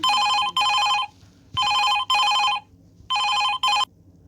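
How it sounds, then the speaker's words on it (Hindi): An old-style telephone bell rings in three double bursts, each pair bright and trilling, with short pauses between, close and clear. "उन दोनों के जाने के बाद टेलीफोन की घंटी बजती है।"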